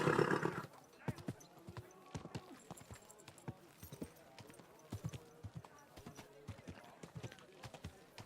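Steady clip-clop of horse hooves at a walking pace in the video game Kingdom Come: Deliverance II, faint and rhythmic, after a brief snort at the start.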